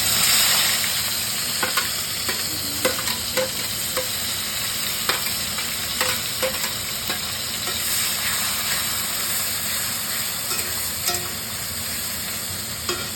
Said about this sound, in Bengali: পেঁয়াজগুলো এখন আমি ছেড়ে দেবো